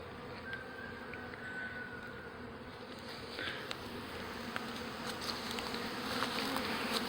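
A swarm of honey bees hums around their clustered queen, a continuous dense buzzing with individual bees droning past closer at moments, faint and steady throughout.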